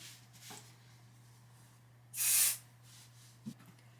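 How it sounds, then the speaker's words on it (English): A single short spritz of Odif 505 spray adhesive on the corner of a quilt, a close, loud hiss lasting about half a second in a quiet room, with faint handling noises around it. "if they pull up, you put an extra little spritz at the corner"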